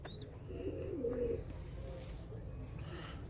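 A pigeon coos softly a few times, low and throaty, with faint background noise and a brief chirp nearby.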